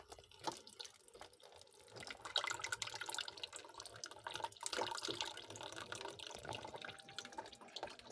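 Water streams and drips from a small pump inside a homemade Lego water-cooling fan, a faint, continuous trickling and splashing that stays fairly steady throughout.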